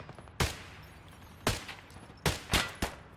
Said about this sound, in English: Good thing their shots aren't really on target here.